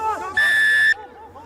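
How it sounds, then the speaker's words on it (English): A rugby referee's whistle at an amateur club match between Brackenfell RFC and UWC: one steady, loud, shrill blast of about half a second, with commentary and crowd murmur before and after. "Referee blows the whistle."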